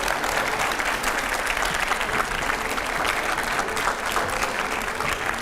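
A studio audience at a televised interview program gives a guest, a central government minister, a steady welcoming applause, a dense sustained roar of clapping heard at moderate volume.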